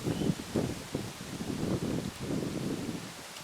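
Wind blows outdoors, making a steady, gusting rush and rustle against the microphone that lasts the whole stretch with no speech.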